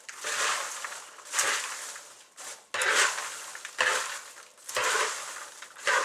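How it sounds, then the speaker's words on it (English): Air-popped popcorn is stirred and tossed with a knife, making loud dry rustling and crunching in repeated sweeping bursts. Each pass lasts about a second, with brief pauses between strokes, close up and without talk. "I grab my knife that I used for my peanut butter, and I'm just going to start stirring this."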